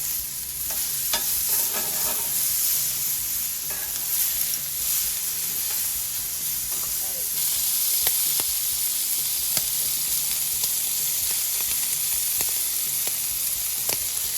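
Prawns sizzling loudly on a hot grill, a dense continuous hiss and crackle up close with occasional sharper pops and scrapes as they are moved.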